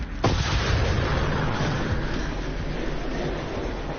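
Artillery fire near the Azovstal plant, a heavy boom opening into a long sustained rumble that fills the whole stretch, loud and dense with no voices.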